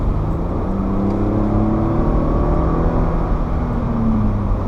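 A 2014 Toyota Highlander XLE V6 accelerates, heard from inside the cabin as a loud, steady engine drone with road and tire rumble and a slowly rising pitch.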